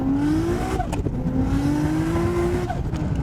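A single-turbo Nissan Skyline GT-R accelerates hard in second gear on high boost from about 4,000 rpm, its engine note climbing loud and close with a brief shift-like dip midway.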